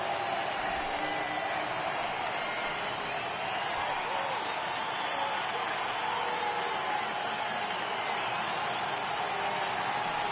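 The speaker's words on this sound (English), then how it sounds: "Crowd gets up for the 3-2." A baseball video game crowd rises and cheers at a full 3-2 count, a sustained roar of crowd noise and applause running steadily throughout, with no break in intensity.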